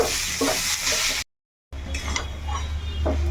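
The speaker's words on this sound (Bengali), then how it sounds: "তো এখন এটাকে একটু মিনিট 2 কষিয়ে নেব।" Tomatoes with salt, ginger and garlic sautéing in a pan, a steady close sizzle with stirring scrapes, broken by a brief silent gap before the frying resumes.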